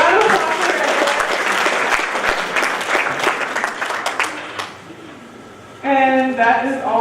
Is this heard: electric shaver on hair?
no